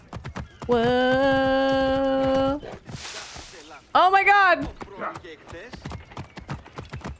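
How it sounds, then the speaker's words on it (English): Horse galloping and leaping in Assassin's Creed Origins, with hoofbeat clip-clops under a loud game soundtrack and a person exclaiming over it. "the horses can jump so crazy"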